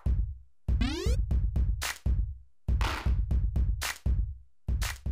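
Imported clap samples triggered on a Novation Circuit drum machine, a busy rhythmic pattern of sharp, close hits with some longer noisy bursts and a rising sweep among them, played alone without speech.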